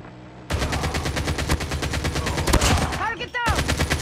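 A deployed sentry gun in Call of Duty: Mobile multiplayer fires rapid automatic bursts, a steady rattling stream of loud shots that briefly cuts out before resuming, with game voice callouts chiming in over the gunfire.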